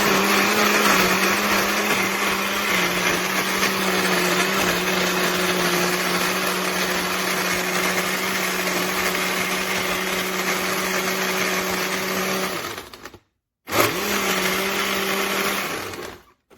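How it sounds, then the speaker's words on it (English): KOIOS 1000-watt personal smoothie blender crushing ice and fruit, a loud, steady motor whine that runs unbroken, cuts out briefly, then whirs again before stopping. "I really want to see what the speed is and how well it blends it"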